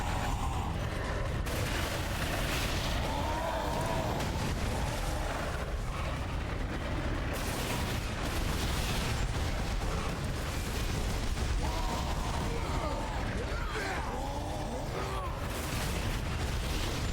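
Gunfire and explosions from the Warhammer 40,000: Space Marine video game on PS3, a dense, continuous barrage of shots and blasts filling the whole stretch at steady loudness, with voices mixed in.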